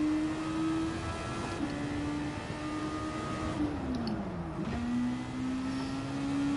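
A race car freewheeling off the throttle into a corner at an FIA Nations Day event: a steady engine drone from inside the car that dips in pitch as it coasts, then picks back up.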